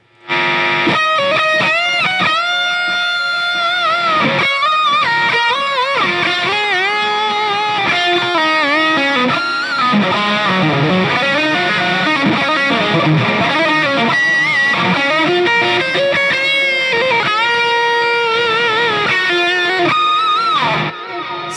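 Heavily distorted electric guitar played through an amp, loud and sustained, with chords and melodic lines ringing continuously for over twenty seconds.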